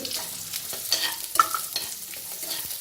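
Coconut, raw mango and garlic are sautéed in a pan for a mint coriander chutney, with a moderate sizzle under repeated scraping stirs and spatula clinks, close and without speech.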